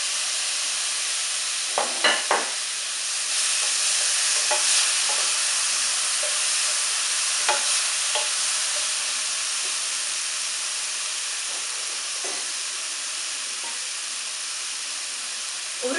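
Onions fry in a pan for a fish omelette, giving a continuous bright sizzle and steam hiss. A few short scraping stirs come early, and the sizzle stays steady and fairly loud throughout.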